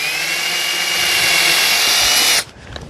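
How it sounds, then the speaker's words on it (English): A power drill bores a pilot hole for deck screws, whining loud and close at steady speed for over two seconds before stopping sharply, leaving faint quiet handling noise. "Alright, so I've got a drill"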